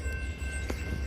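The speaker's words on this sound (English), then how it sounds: "Here comes the Amtrak." Amtrak passenger train passing through Ashland, Virginia, a faint, steady low rumble with a brief click, heard from a distance over a very short moment.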